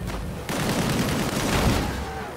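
Sustained shooting in a first-person video game, a dense continuous barrage of gunfire with booming low rumble, loud and close throughout.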